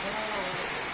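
A brief burst of steady rain patter, a dense hiss of drops on a surface.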